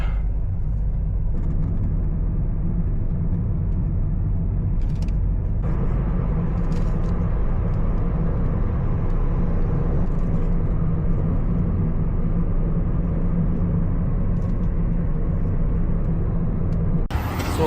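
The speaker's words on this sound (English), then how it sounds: "Well, there sure is a lot of traffic." Busy road traffic on a Thursday evening in Riyadh, a steady dense rumble of cars and engines heard from inside a moving car, continuous and fairly loud, with a short brighter swell near the end.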